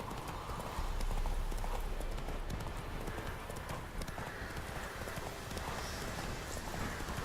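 Horse hooves clip-clop steadily in Witcher 3, set near Oxenfurt with Redanian soldiers about, the steps close and continuous over a dense bed of rain-like noise.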